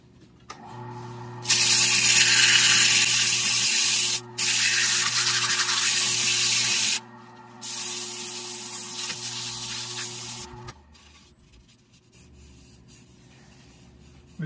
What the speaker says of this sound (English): Try a little sanding.